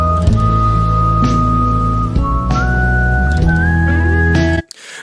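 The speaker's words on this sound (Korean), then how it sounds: "간주 부분에서 휘파람 소리가 나오니까" A whistled melody rides over the instrumental interlude of a ballad, a loud, clear tune with gliding pitches above sustained backing, ending abruptly.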